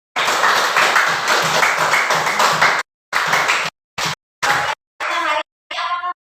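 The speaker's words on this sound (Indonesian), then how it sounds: "Tepuk tangan untuk kelompok 1 dan 2." Pupils in a classroom applaud for student groups, a burst of lively overlapping claps that cuts off abruptly, then returns in short choppy bursts separated by silences, closing with brief voices.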